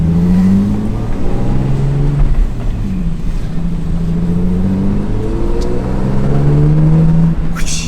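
A Lexus IS300, newly made roadworthy after sitting for a long time, drives and accelerates with a steady engine drone whose pitch climbs and falls through gear changes. The sound is loud and close throughout, with no talking over it.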